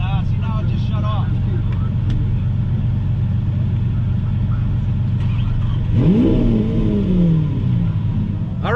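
A car engine runs with a steady low rumble, then revs up and settles back down, close by with some background noise.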